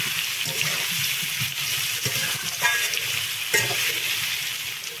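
Potatoes, onion and garlic fry together in a pan, giving a steady close sizzle broken by a few scraping stirs, with no voices.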